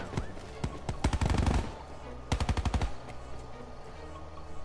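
Two rapid bursts of automatic gunfire from the Black Ops 4 video game's prop hunt mode, each a loud rattling volley of about eight shots, separated by a short pause, with faint voices underneath.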